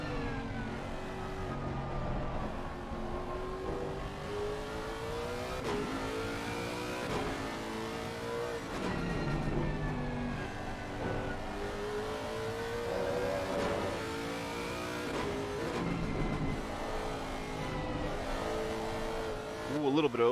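Lexus and Nissan race cars dueling at Laguna Seca, with engines howling up and down through gear changes in a continuous, layered roar as they battle through the corners.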